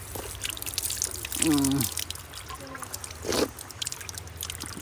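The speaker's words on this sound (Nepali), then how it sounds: "म यहाँ विकेश धारामा हात धुनुपर्छ क्या।" Water runs from an old stone spout at the Bajrayogini Temple in Kathmandu while someone rinses their hands, making a soft, steady trickle and patter with a few brief voice-like sounds mixed in.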